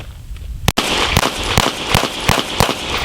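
Gunfire during target shooting practice: a series of sharp, loud bangs, first an isolated crack, then repeated shots at roughly half-second intervals over a steady background.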